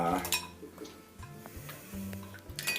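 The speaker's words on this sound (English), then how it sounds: "We're going to mix it all up" Spicy guacamole mixed in a bowl in a home kitchen, a run of soft, close scraping and clicking stirs with faint clinks against the bowl, no talking over it.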